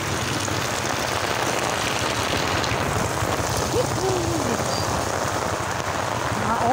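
Heavy rain pours down in a constant loud hiss and patter, with a faint voice murmuring briefly in the background.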